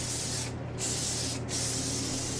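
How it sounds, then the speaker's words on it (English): Sebastian Shaper Plus hairspray hisses from a can held close, in a steady spray briefly broken by two short pauses. "I'm going to grab my Sebastian Shaper Plus hairspray and doing just a little plump, a little lift as we spray"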